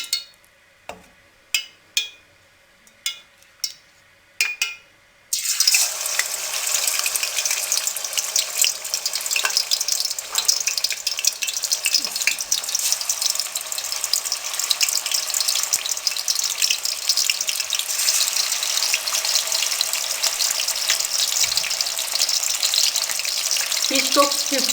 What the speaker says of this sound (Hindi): अब हम फिश को फ्राई करेंगे।